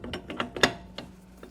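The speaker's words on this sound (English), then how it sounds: "we're going to put in our dough hook" A metal dough hook being fitted onto a stand mixer while making cinnamon roll dough, a quick series of close clicks and clanks with one sharp metallic knock in the middle, then quieter taps.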